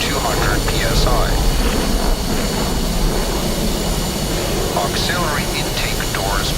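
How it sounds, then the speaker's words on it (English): A left jet engine idles after start-up in the DCS flight simulator, a steady loud roar with a constant whine held throughout, while a voice talks over it. "After the left engine has been started, you must check."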